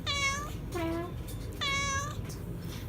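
A cat meows three times indoors, each call drawn out with a clear rising and falling pitch, close and fairly loud over a steady low background hum.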